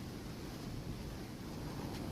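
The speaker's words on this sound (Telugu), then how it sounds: "చూడండి నీళ్ళు చూడండి ఎంత బాగా వస్తున్నాయో గేట్లో నుంచి" Water rushes out through the gates of Pincha Dam, a steady, dense roar of churning flow with a windy hiss, constant and unbroken throughout.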